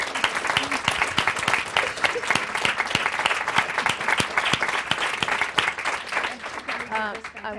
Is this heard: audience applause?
yes